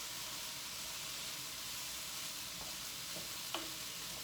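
Vegetables and rice tossed in soy sauce and seasonings, a faint, steady frying hiss with a few light stirring taps near the end, quiet and without voices.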